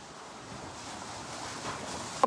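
Fast-flowing floodwater of the Sutlej river, swollen by releases from the Bhakra dam, roars as a steady broadband rush, likely mixed with wind, continuous and fairly close with no voices.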